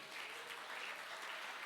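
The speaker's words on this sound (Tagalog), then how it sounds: "Palakpak sa Panginoon." A church congregation claps during a sermon, a faint, brief patter of applause heard at a distance and alone.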